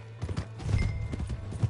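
Horse hooves clip-clopping on the ground in Red Dead Redemption 2, a quick run of close hoofbeats mixed with game ambience.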